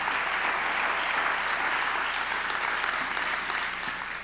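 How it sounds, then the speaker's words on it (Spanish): Steady applause from a church congregation at a midweek Bible study gathering, a dense wash of clapping held evenly throughout and tapering slightly at the end. "Denle un fuerte aplauso a Jesús."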